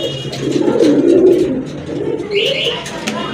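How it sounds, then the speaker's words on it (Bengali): A pair of domestic pigeons kept for sale coo close by, with soft low throaty phrases rising and falling over a few seconds, and a brief higher chirp near the end. "এখানে আরেক জোড়া কবুতর দেখতে পাচ্ছেন, খুবই সুন্দর এক জোড়া কবুতর।"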